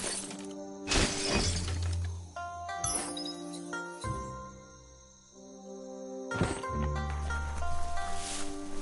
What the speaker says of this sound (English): You shouldn't worry about smashing up the box.